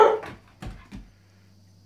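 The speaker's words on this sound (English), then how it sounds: "You can bark all you like." A Rough Collie barks indoors, a loud opening bark followed by two shorter barks with quiet gaps between.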